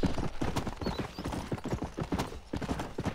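Rapid, rhythmic clip-clop of a horse's hooves galloping nearby in the video game Red Dead Redemption, continuous and fairly loud throughout.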